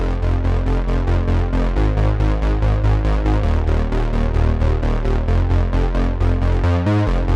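A punchy synthwave bass line from the BS Feel the Power preset pulses in steady eighth notes, loud and alone, shifting pitch every couple of bars before a short fill at the end.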